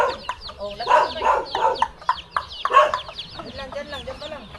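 Chickens cluck close by in a string of short, choppy calls that rise and fall over a few seconds, with a person speaking faintly in the background.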